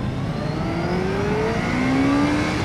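A Honda CBR1100XX motorcycle engine revs up in two rising sweeps, near and steady, with a loud continuous engine drone throughout.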